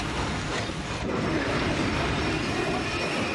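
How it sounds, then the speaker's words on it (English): A train in the film Schindler's List rolls to a halt, its heavy, continuous rumble and rattle of railcars filling the whole stretch loudly and evenly, with no voices over it. "they actually got the train stopped"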